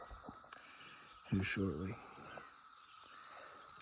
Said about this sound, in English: You can't hear nothing for the cicadas.